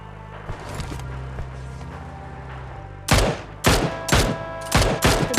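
Close, loud bursts of automatic gunfire from a bot in the battle royale game BGMI, several sharp volleys in quick succession after a stretch of quieter game ambience with a low hum.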